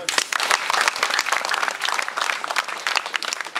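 A live audience bursts into dense, sustained applause at a religious talk, a steady wash of many hands clapping at once, loud and close, with scattered cheers mixed in.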